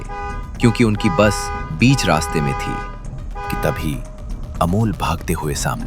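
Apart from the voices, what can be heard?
vehicle horns honking, sound effect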